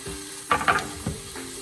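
Onion and garlic hit a hot pan and are stirred around with green beans, giving a few short bursts of sizzling and utensil scraping over a faint steady hum, close and fairly loud.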